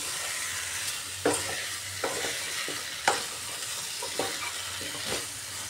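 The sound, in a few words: taro corm sautéing with spices in a pan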